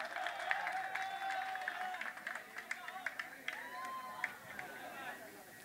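An audience at a mushaira poetry recital applauds, a soft, fairly distant patter of many hands clapping with scattered sharper claps and murmuring voices beneath, steady for a few seconds.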